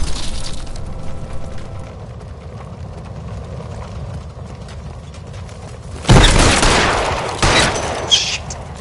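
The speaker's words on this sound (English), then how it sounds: "I'll lay down some suppression fire." Suppression gunfire in the video game L.A. Noire: a low rumble of distant shots, then a loud, close burst of rapid fire around the sixth second, with further cracks trailing off, and no voices.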